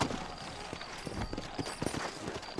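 Horse hooves clip-clop in a quick, uneven rhythm over a dense background wash, close by and moderately loud, in the video game Red Dead Redemption.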